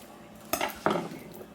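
Peeled garlic cloves with both ends trimmed drop into a mortar with two quick, close knocks, about a third of a second apart, then silence.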